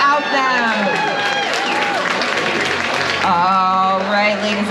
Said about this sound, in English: Our beautiful judges, let's give them another round of applause because we would not be here without them.